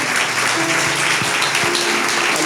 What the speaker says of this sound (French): Clap for the words.